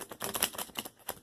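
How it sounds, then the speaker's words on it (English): A deck of tarot cards being shuffled by hand gives a quick run of crisp, papery clicks and flutters in uneven bursts, close and fairly quiet. "And now I'm going to shuffle. So you'll hear it on camera."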